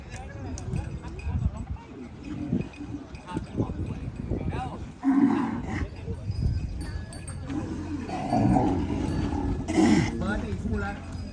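Cattle at a traditional bullfighting event at the Thung Thale Luang field in Sukhothai, with animal calls and crowd bustle heard under steady loudspeaker commentary.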